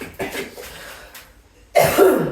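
A couple of throaty coughs from a person getting over a cold, the last one loud and close, with brief quiet gaps between them.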